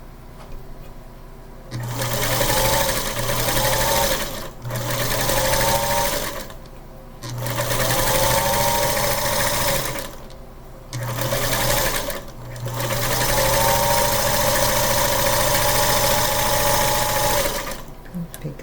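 A sewing machine stitches quilt seams in bursts: a loud steady mechanical whir runs several seconds, stops briefly, and starts again, close up with no talk.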